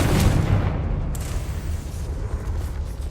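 A Confringo fire spell explodes in Hogwarts Legacy inside a tomb-like mine, a loud rumbling blast with a deep low-end roar that stays dense and sustained across the whole moment, with no voices over it.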